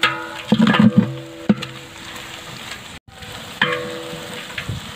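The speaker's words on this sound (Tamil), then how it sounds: "வெங்காயம் நல்லா வதக்கலாம்" Onions sauté in oil for quail biryani, giving a continuous close sizzle broken by scraping, clattering stirs of a spatula against the pan.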